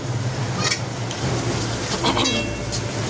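Spices frying in a pan while being stirred, with a constant sizzle broken by scraping and clinking of a utensil against the pan, close up.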